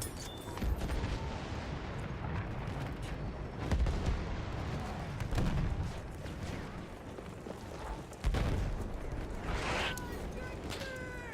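Battlefield 1 gameplay carries continuous bursts of machine gun fire mixed with heavy booms and explosions, loud and dense throughout, with faint in-game voices.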